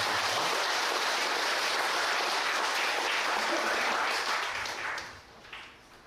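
Sustained applause from an indoor audience after a speaking contest at a Won Buddhist temple in Yeouido, dense clapping that holds steady then fades out near the end.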